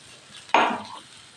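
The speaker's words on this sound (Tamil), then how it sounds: "சட்னி தாளிக்கணும்." Coconut chutney tempering in a pan gives one sudden loud sizzle burst that tapers off within half a second, heard close up and alone.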